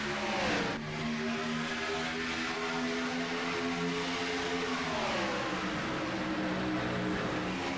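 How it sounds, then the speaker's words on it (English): Race car engines in a sim racing video game, a heat race just after the green flag, with a dense, steady drone of several engines revving and climbing in pitch together, loud and continuous with no talk. "I was going to let him go half a lap for you to hear these wonderful engines coming up to song, but Kyler Wynn forces my hand."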